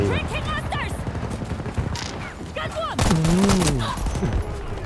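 Rapid gunfire in a video game firefight, an M1 Garand facing fast-firing guns, with dense overlapping shots and volleys mixed under an excited voice talking throughout.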